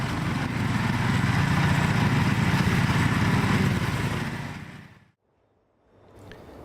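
The engine of a Logic MFP flail mower runs with a steady, loud, buzzing drone for about five seconds, then fades quickly to silence before a fainter engine sound returns.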